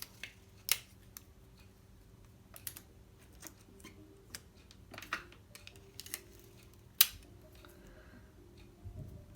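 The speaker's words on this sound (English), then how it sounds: "So I'm just gonna go ahead and put a few pieces of tape on." Pieces of tape being torn and pressed onto a paper exploding-box craft, a quiet close series of sharp rips and small taps spread irregularly across the clip, with no talking.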